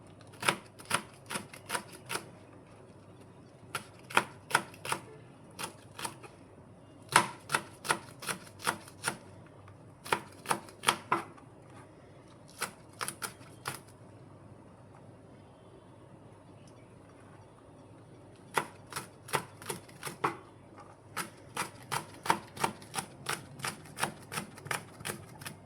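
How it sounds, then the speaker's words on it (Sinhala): Green chillies being chopped with a knife on a board for cutlets, in quick bursts of sharp, rhythmic knocks separated by short pauses, close and clear with no talk. "අවු මිරිස් ටිකත් මම හිමියට කපා ගන්නවා."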